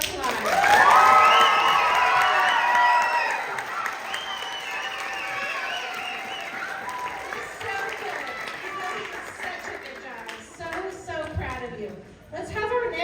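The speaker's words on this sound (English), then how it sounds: "So give them one more round of applause." Audience applause and cheering for young students after a Peter Pan play, with excited voices and children's shouts rising over the clapping before it tapers off into scattered chatter.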